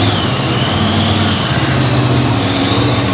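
A pulling tractor's engine grinds and labors at a tractor pull event, a loud, close, continuous mechanical drone with an uneven, struggling rumble and no clear catch.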